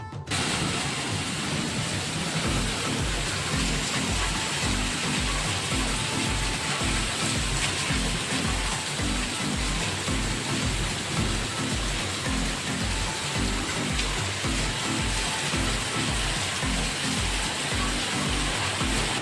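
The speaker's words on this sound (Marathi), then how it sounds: "तर हे बघा खरंच पाऊस येतोय." Evening rain sets in, a constant, even wash of falling water with a faint low thrum underneath, holding at one level from start to finish with no talking.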